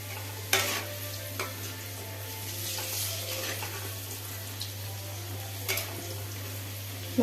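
Potatoes fry with turmeric in a pan, a steady soft sizzle close up, punctuated by several sharp scrapes and clinks of a spoon stirring against the metal.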